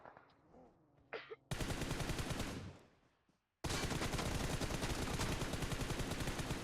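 Rapid automatic gunfire in a video game: loud, dense bursts after a quiet opening, a brief pause, then a second long sustained volley.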